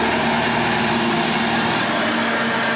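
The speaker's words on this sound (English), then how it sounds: "probably a bulk corn truck actually" A bulk corn truck rolls past on Main Street in Cobb, Wisconsin, its broad engine and road rumble steady and fairly loud throughout, close by, with a faint hiss toward the end.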